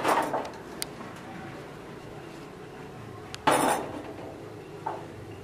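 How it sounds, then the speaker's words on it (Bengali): A utensil scrapes and clinks against a kadai while an egg fries in the sun's heat. Two sharper metallic scrapes stand out among softer knocks, close and fairly quiet. "তো আমি আর একটু নেড়ে নেই।"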